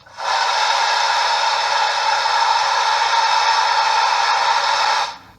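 A Bachmann PRR K4 4-6-2 model train's sound system plays a steam blowdown, a loud, continuous hiss of escaping steam rushing out for about five seconds at an even level before stopping abruptly.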